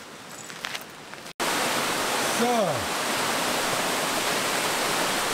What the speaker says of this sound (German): unser erstes Gebiet ist dieser Wasserfall